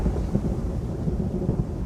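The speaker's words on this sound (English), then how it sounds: "So Ariel goes to the ship and makes a tempest, with wind and rain." A thunderstorm with wind and rain as a story sound effect: a steady, dense roar of rain and low rumbling thunder, fairly loud and continuous, with no voices.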